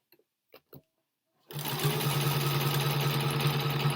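A sewing machine starts up after a few faint clicks and runs steadily at speed, its fast, even stitching hum loud and continuous to the end.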